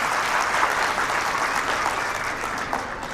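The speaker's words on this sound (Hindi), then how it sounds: "तो तालीओथी वधावशो एवी मारी विनंती" An audience at a school annual day gives steady, dense applause with many hands clapping together for about three seconds, loud and continuous, with no talk over it.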